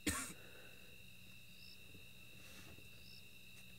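Crickets chirp in the bush at night, a faint steady high trill with soft repeating pulses over quiet ambient hiss, beginning with a brief close rustle or knock.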